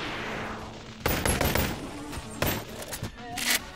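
Several loud, close pistol shots crack out in Bonelab, fired in quick irregular bursts over a reverberant background.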